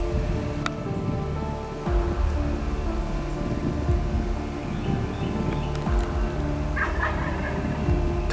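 Wild turkeys gobble a few times at a distance over steady rain-like background noise, with no talking.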